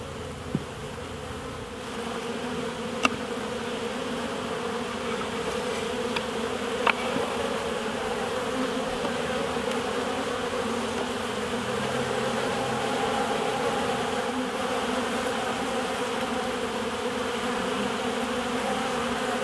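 A dense, continuous hum of many bees buzzing around an opened beehive fills the scene steadily for the whole stretch, close and even, with a couple of faint clicks and no talking.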